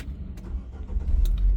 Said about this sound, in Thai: เหยียบเบรกกดปุ่มสตาร์ทครับ